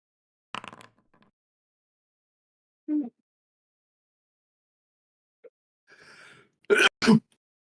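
A sudden loud sneeze bursts out after scattered quiet noises, sharp and close, with a brief second burst right behind it.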